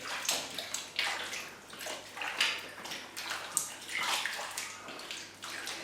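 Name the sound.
kneading seitan dough in water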